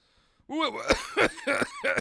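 A burst of harsh, repeated coughing and throat clearing close up, several rough bursts in quick succession after a brief quiet moment.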